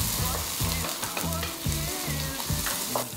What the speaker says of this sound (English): So garlic chili shallot goes in.